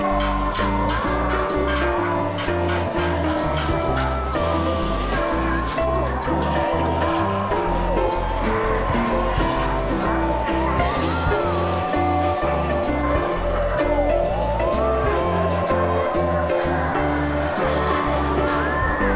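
Dense, loud bustle at a market in Lopburi, Thailand, with overlapping chatter, music and traffic noise running continuously without a break.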